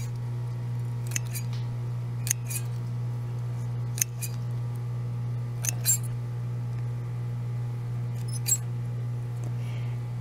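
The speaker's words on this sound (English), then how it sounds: "we're going to cut, not tear, we're going to cut the leaves off of here" Sharp scissor snips cut the leaves from a roselle softwood cutting, six or so crisp clicks spaced a second or two apart over a constant low electrical hum.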